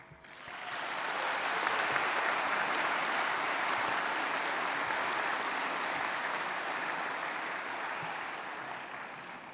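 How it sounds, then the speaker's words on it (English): A graduation ceremony audience at Roehampton Law School cheers and applauds the graduates' families in a long, dense, steady roar of clapping that swells, holds and slowly tapers. "Let's give them a massive cheer for the amazing support"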